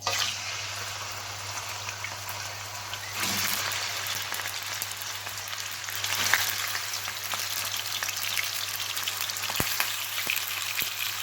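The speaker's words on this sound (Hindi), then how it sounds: "और ये देखिए हमारा ऑयल हो गया गरम। अब हम इसमें ऐड करेंगे मटन।" Mutton sizzles in about a third of a cup of hot oil in a karahi, a steady, close crackling hiss with a constant low hum underneath and no talking.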